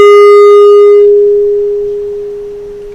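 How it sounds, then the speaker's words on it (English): A struck tuning fork rings with a single pure, steady tone, bright overtones fading within the first second while the fundamental sustains and slowly decays, close and loud. "Let's see what happens now if I sound this tuning fork."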